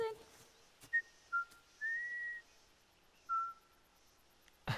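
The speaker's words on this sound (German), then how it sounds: "jetzt versucht sie wieder zu pfeifen" Ellie whistles in The Last of Us Remastered, a few short and one longer clear whistled notes spaced apart over quiet game ambience, with faint voice in the background.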